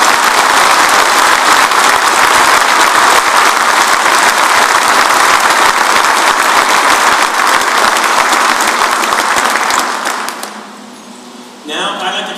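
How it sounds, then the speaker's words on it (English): Dense, sustained audience applause at a military change of command ceremony, loud and steady for about ten seconds before fading out, with a voice beginning to speak at the end. "I'd like to give a big round of applause for General Hicks and his family."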